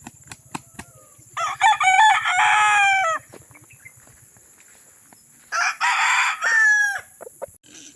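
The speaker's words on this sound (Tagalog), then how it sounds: "Daming manok dito." Roosters crow loudly twice, each call long and wavering, among nearby chickens clucking softly, with a few sharp knocks early on, close-up at a farmyard by a pig pen.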